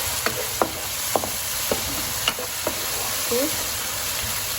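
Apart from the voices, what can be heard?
chili paste frying and being stirred in a pan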